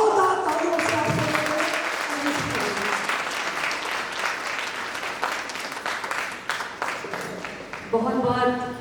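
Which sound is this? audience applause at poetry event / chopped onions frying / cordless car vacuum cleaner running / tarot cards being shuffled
audience applause at poetry event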